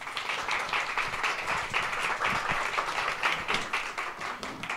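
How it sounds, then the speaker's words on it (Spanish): An audience fills a lecture hall with steady applause, a dense wash of many hands clapping that stays loud and even throughout, with no voices. "Un aplauso para él."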